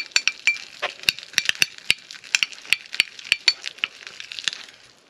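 Homemade natto is stirred in a bowl, with a rapid irregular series of sharp clicking and clinking utensil strikes and sticky scraping, close and fairly loud.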